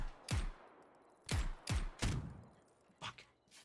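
Assault rifle gunfire in the video game Zero Hour comes as about six sharp, loud reports in short bursts and single shots, unevenly spaced with brief quiet gaps between them.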